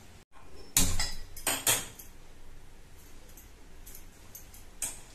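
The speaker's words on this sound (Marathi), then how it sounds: "आता कढई ठेवलेली आहे" A metal kadhai wok clanks onto a stove in a home kitchen, giving a few bright, close metallic knocks and rattles, then one fainter clink near the end.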